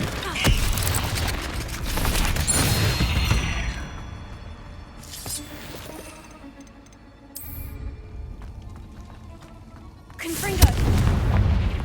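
Blasting-spell explosions in the video game Hogwarts Legacy, heavy booms at the start and again near the end with rumbling game action and ticking mechanisms in between, loud and close.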